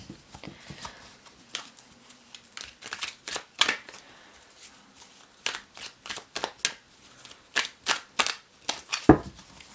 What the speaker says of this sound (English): I know that some people like to see a good shuffle.